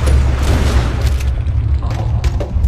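Gunfire in the video game Red Dead Redemption 2: a loud, sustained burst of booming shots and rumbling low end that stays dense and heavy throughout, with no talk over it.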